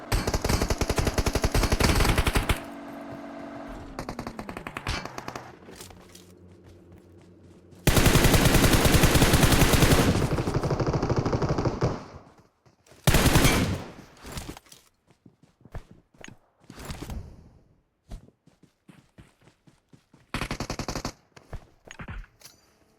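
Gunfire in the mobile battle royale game PUBG Mobile, with repeated loud bursts of rapid automatic fire separated by short quiet gaps and lighter in-game movement sounds.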